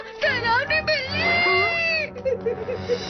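A frightening cartoon cat lets out a long, wavering meow-like wail at close range, rising and falling over a couple of seconds before trailing off into fainter sounds; it is likely a voice imitating the cat.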